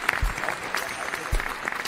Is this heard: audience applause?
yes